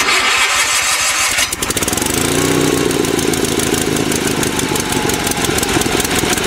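A Sears SS16 garden tractor engine cranks and catches on a cold winter start, then settles into a loud, rough, steady running rumble close by, with another engine running in the background.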